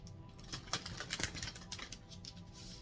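Tarot cards being shuffled by hand, giving a soft, quick riffling patter of card edges with a few sharper flicks, close and quiet, with no talking.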